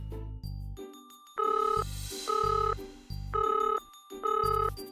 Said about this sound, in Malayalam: ഫോൺ അടിക്കുന്നത് കേൾക്കുന്നില്ലേ?